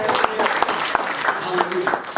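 Church congregation clapping steadily, a dense spread of handclaps at moderate volume with a few louder claps standing out and voices murmuring underneath.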